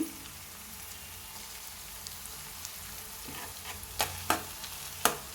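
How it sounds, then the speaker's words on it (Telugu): Ginger garlic paste fries in a pan with a soft, steady sizzle, and a few sharp clinks and scrapes of stirring come near the end. "ఇందులో అల్లం వెల్లుల్లి పేస్ట్ వేసుకోవాలండి కొంచెం"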